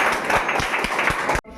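At a student award ceremony, the audience claps in a loose rhythmic burst with a few voices mixed in, then the applause cuts off abruptly.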